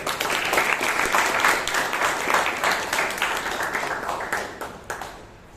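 Members at a Bangalore Toastmasters club meeting give a round of applause for Toastmaster Chiranth A K, a brisk burst of many hands that stays strong for several seconds, then thins out and fades near the end.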